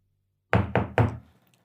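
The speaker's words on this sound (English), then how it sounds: "I knock on the door." Three firm knocks on a door, close and loud, evenly spaced within about a second, with a short fading resonance after the last knock and no voices.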